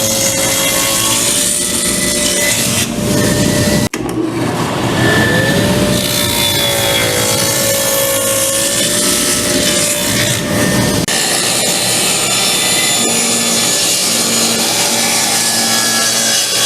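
A loud, continuous saw cut through a piece of wood for a ladder chair, a dense rasping whine that holds steady and shifts pitch slightly as the blade moves through the wood.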